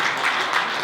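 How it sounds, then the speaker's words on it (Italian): A brief burst of full, close audience clapping for a poet at a cultural gathering in Ghilarza, Sardinia, continuous and loud throughout. "Io vorrei un grande applauso per Celestino Muregno"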